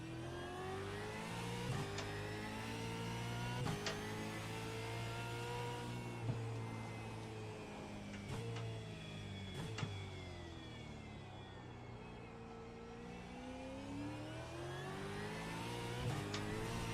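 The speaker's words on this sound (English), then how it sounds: "Can you actually hear the car all right?" A race car engine on the Adelaide street course during a practice session revs and climbs through the gears, with repeated rising pitch sweeps and sharp shift breaks. It is loud and close, like an onboard recording, with no talk.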